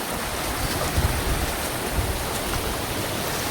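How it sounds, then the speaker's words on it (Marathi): A large waterfall in heavy monsoon rain roars as a dense, unbroken rush of water, loud and close, steady for several seconds with no voices. "हे बघा किती मोठा वॉटरफॉल आहे"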